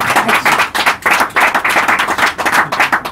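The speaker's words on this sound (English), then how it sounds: "could our gathering of intelligent, data-minded brands and agencies give a little ripple of applause?" Audience at an executive panel on marketing attribution giving a brief ripple of applause, dense close clapping in quick irregular bursts.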